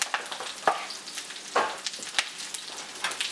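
Something sizzles in hot oil in a pan for a roast beef dinner, a close crackling hiss with a few sharper pops and stirring scrapes, no talk.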